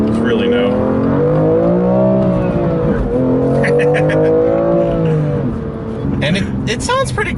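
BMW M2 with manual gearbox accelerating on a race track, its engine droning loudly with rising and falling pitch through gear changes, steady and close throughout, with people talking over it near the end.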